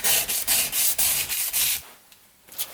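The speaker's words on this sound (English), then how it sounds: "So spend some time sanding it" Sandpaper is scrubbed by hand over a painted Jaguar XJ6 cam cover in quick, loud back-and-forth strokes, about a dozen close rasps that stop briefly and then return faintly.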